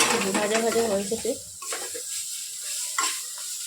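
Dried fish curry frying in oil in a pan gives a soft sizzle with a few stirring scrapes, while a voice talks over the opening second or so.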